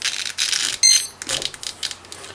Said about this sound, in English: We actually hear a long beep there.